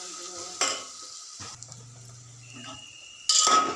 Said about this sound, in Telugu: తాలింపులో వేసేస్తున్నా